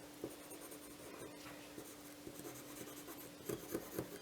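A Derwent watercolour pencil scratches across paper in short, quiet strokes and taps, a soft, close, uneven rhythm of scribbling with no talk.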